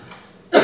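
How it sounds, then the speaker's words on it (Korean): A man who has had a cough for two days, speaking at a Thursday church meeting, lets out one sharp, loud cough at the very end after a near-silent pause. "갑자기 이게 한 이틀 정도 기침이 나서"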